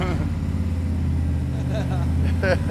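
A race car engine rumbles loudly and steadily at close range, a deep throbbing drone that holds through the whole moment, with people talking and shouting over it.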